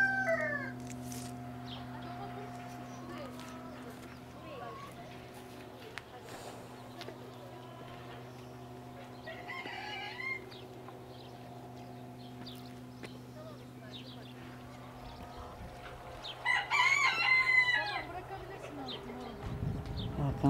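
Chickens cluck in a farmyard with a steady hum behind, and a rooster-like call near the end; people talk intermittently.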